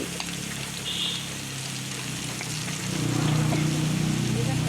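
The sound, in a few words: potatoes added to pan and frying, Bengali khichuri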